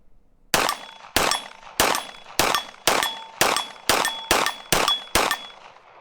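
A Foxtrot Mike FM45 build pistol fed from a Glock magazine fires about ten sharp shots in an even, rapid-fire rhythm, each a loud crack with a ringing metallic tail, with no talking.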